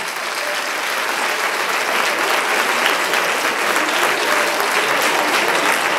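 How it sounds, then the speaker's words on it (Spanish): A school audience at a Grease musical applauds the family, a dense, loud, sustained clapping from many hands that fills the room evenly from start to finish. "nosotros le hacemos un aplauso a la familia"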